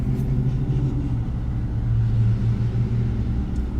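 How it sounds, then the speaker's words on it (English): Distant thunder rolls during a tornado-risk storm in Arkansas, a steady deep low rumble sustained throughout with no voices. "Just heard thunder."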